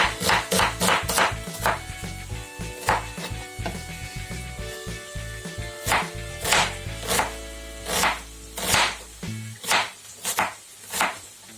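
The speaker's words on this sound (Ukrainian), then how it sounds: "Одну цибулину накришуємо кубиком." Rapid rhythmic knife chops dicing an onion on a cutting board, fast at first then slowing to spaced strikes, over a faint sizzle in the background.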